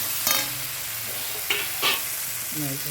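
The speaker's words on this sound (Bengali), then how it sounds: "এবার আমি এর মধ্যে চিকেনটা দিয়ে দেবো" Chicken goes into spiced masala frying in a pan, giving a steady close sizzle with a few quick stirring scrapes over about three seconds.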